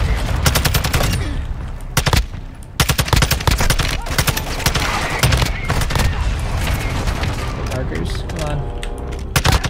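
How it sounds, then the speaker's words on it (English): Rapid bursts of automatic gunfire and overlapping shots from Call of Duty MWII DMZ in Al Mazrah, loud and near, with a player's voice talking over the firefight. "I'm taking fire!"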